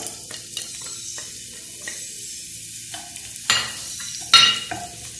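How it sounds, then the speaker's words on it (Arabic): Onions drop into heated oil in a pan for paella, making a low steady sizzle broken by several louder stirring scrapes and sharp bursts of hissing. The sound is close up, with no voices. "ملي كتسخن الزويته كنضيفو البصل"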